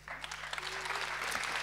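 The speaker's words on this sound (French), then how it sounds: "Vous pouvez continuer à applaudir" Audience applause at a Dalida Institute graduation ceremony, a steady dense wash of many hands clapping, moderately loud and sustained throughout.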